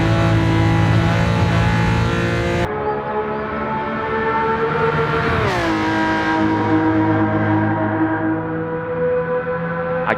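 A Lamborghini Countach 500S with a V12 engine accelerates flat out on a racing circuit. The engine note is loud and close, climbing steadily through the revs, with one brief gearshift dip partway through and no talking.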